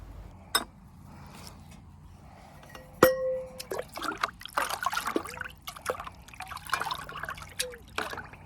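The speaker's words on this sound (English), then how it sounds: "we're going to add it to a bucket of water approximately" Fermented yeast liquid trickles and splashes into a bucket of water, with a sharp clang early on, then an irregular stream of pouring and dripping sounds nearby.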